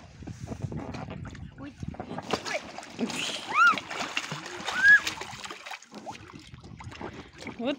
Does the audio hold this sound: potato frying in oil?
no